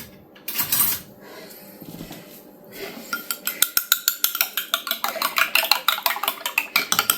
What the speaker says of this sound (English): I beat it up just fine.